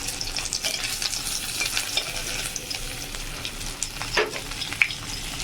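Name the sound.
dried fish frying in hot oil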